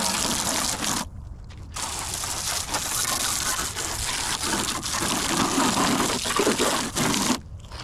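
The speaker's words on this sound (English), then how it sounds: "All right, I think it's rinsed enough." Water from a hose rinses a Chevelle's fender panel during rust repair, a loud, steady gushing spray close by that cuts out briefly twice.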